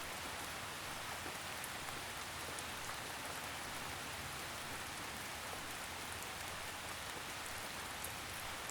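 Gentle drizzle of steady rain falling on surfaces, a soft continuous hiss with fine patter throughout, even and unbroken, moderately quiet with no voices.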